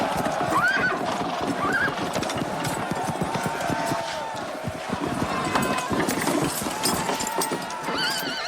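A horse gives loud, shrill whinnies and snorts while hooves clip-clop and pound at a run, with a busy, noisy battle scene churning underneath throughout.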